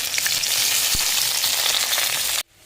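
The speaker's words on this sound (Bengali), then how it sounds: "তেলের মধ্যে আমি ফোড়নে এখানে দুটো শুকনো লঙ্কা গোটা গরম মশলা দিয়ে দিলাম কেটে রাখা পেঁয়াজগুলো দিয়ে দেবো" Steady, loud sizzling and crackling of chopped onions frying in hot oil with dried red chilies and whole spices, continuous until it stops abruptly near the end.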